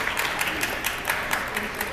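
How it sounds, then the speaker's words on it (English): An audience at an animal training show applauds, a brief, even stretch of many hands clapping at moderate volume, with a hint of voices underneath. "Ladies and gentlemen, let's have a round of applause for Shasta."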